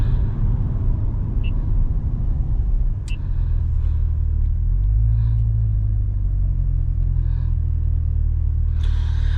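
A sports car, either a C8 Corvette or an Audi R8, makes a short acceleration pull on a Florida road, its deep engine rumble swelling and holding steady, loud and close, with no talk over it.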